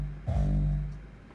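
A synthesized kick drum with its attack tick stripped away, giving one soft, blurry low thump that swells and fades over about a second. Close and alone, with no sharp transient at the front.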